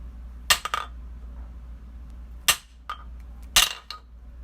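An inertia bullet puller hammered down onto a concrete floor, giving three sharp, close knocks about a second apart, each followed by a brief metallic rattle.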